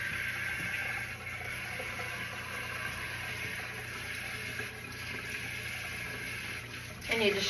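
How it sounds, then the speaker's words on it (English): Warm water runs from a kitchen tap in a steady, continuous broadband rush, close and moderately loud throughout, with a brief louder splash near the end. "Alright, we're going to get a little warm water, I hope."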